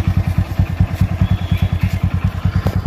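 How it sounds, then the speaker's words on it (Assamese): An eleven-year-old Honda Twister motorcycle engine runs close by with a steady, fast thumping idle, its even low pulses repeating without a break. "এইখন হুণ্ডা টুইষ্টাৰ আপোনাৰ এখন বাইক হৈছে 11 বছৰ ৰানিং হৈছে"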